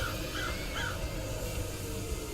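Crows cawing in the video game Paradise Killer, three short harsh caws in quick succession early on, heard over a dense, steady ambient background.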